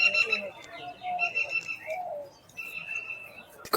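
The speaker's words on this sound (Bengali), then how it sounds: "আবারও আসাদুল ভাই যে দুটো হাতে পায়রা নিয়ে আছে, এই দুটো আমার ধাড়ি পেয়ার।" Desi giribaz pigeons in a loft give soft, low coos and occasional chirps, close by and intermittent, with faint background sounds around them.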